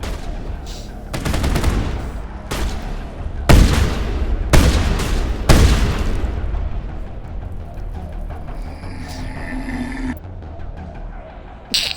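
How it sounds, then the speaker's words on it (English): Explosive rounds fired in the Mass Effect video game: several loud, sharp bursts of gunfire come in quick clusters over the first half, then fade into softer electronic game tones and a low rumble. "Explosive rounds."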